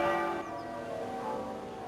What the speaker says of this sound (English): The sombre sound of the half-muffled bells of the Collegiate Church of St Mary in Warwick